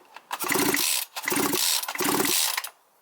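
A small two-stroke brushcutter engine with old piston rings revs in three loud bursts, crackling and popping, dropping back between each rev, close up with no talk.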